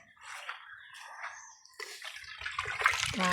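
Water is poured over rock salt to dissolve it while cooking rice for a Sri Lankan feast: a soft, irregular trickle that builds into a louder, splashing pour toward the end, with no talking.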